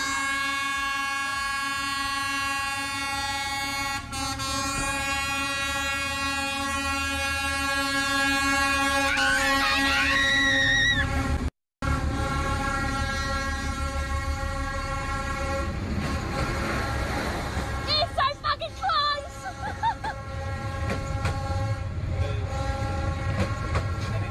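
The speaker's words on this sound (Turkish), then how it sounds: "Kermesin ortasından tren geçti." A train passes right through a fairground, its horn blaring loud and close in long sustained blasts over a steady rumble and clatter of wagons, with a brief break midway.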